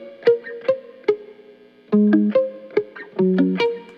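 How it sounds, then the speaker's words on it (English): Palm-muted electric guitar plays an arpeggiated figure through effects, with short plucked notes in uneven clusters and brief gaps, loud and close with no voices. "So the song started out with this palm-muted arpeggiated guitar."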